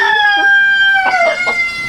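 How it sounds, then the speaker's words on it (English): Hens in a backyard coop that holds barred rock layers give loud, close, drawn-out clucking and crowing-like calls, with no talk over them. "Let's check these chickens."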